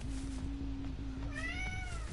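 A cat meows close by, first a long low drawn-out call and then a rising higher-pitched meow, with no talking over it.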